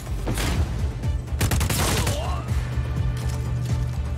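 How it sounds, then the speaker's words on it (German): Dense, loud gunfire from shooting at enemy soldiers in Just Cause 4, with overlapping shots and crashing impacts forming a near-continuous barrage over steady game noise, with a voice faintly under it. "Ich schieße die halbe Armee zusammen."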